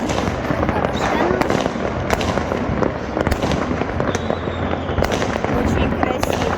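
New Year 2024 fireworks over Adler fill the air with a dense, continuous crackle and scattered sharp pops, heard from a height with voices mixed in.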